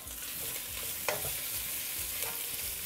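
Hydrated dried mushroom pieces sizzle steadily in a hot pan while a spatula stirs them in a few soft, repeated scrapes.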